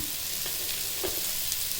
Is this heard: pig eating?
no